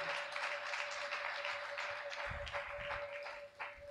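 Church congregation applauding loudly, dense continuous clapping with a few louder claps close by and a brief murmur of voices beneath.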